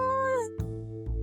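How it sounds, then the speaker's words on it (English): A domestic cat meows once, a clear, drawn-out tonal cry that bends downward before a pause, followed by a lower, muffled second sound near the end, alone with no talk. "Oh, it's just a cat."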